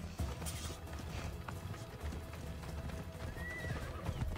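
Horse in Assassin's Creed Odyssey, hooves clopping and a whinny near the start, fairly quiet under a busy game soundscape.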